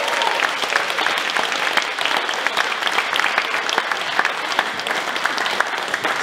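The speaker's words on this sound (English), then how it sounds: "I think that serves another round of applause." Audience applause for a young solo performer at a folk night of the Mull of Kintyre Music Festival: dense, steady clapping from a large crowd that fills the whole stretch without a break, with no voices over it.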